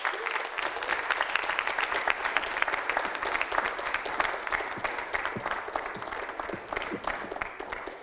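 A crowd at a Ferguson movement event applauds guests coming up to the stage, a sustained burst of many hands clapping with crisp individual claps standing out, loud and close throughout with no pause.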